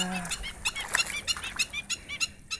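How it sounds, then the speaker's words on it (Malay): Black-winged stilts call in a wetland. Sharp, repeated piping notes come in quick irregular bursts at moderate distance. A brief low murmur at the start, then the calls continue alone. "Rupanya burung gagang bayam ini ya."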